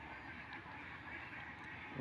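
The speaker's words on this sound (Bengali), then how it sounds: "তিনটা চীন হাঁস পালি" Chinese geese honking in a steady, busy chorus with a noisy background, rising louder right at the end.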